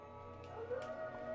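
Video game dogs in X-Men Legends, struck by chain lightning, let out a short wavering howl with a yelp. It is moderately loud over steady game background hum, and nobody speaks.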